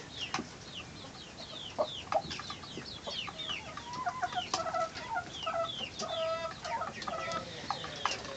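A broody hen clucks in a cage with chicks, repeated clucks and agitated calls mixed with high peeping from the chicks, fairly close and continuous with no talking.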